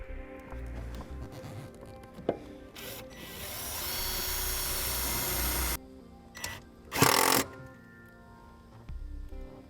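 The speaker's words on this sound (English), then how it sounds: "We'll start our self-tapping screw first to make it easier." A power driver sets a self-tapping screw into sheet metal behind the brake pedal of a 2012 towed vehicle, a few seconds of rising whir followed by a short louder burst and scattered clicks.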